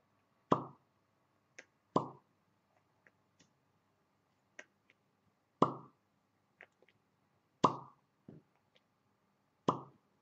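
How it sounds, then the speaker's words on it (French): Soft wet suction pops from suction on the skin of the chin sound one at a time at an irregular pace, close and quiet, with tiny clicks between them and silence around. "je fais des ventouses sur mon menton"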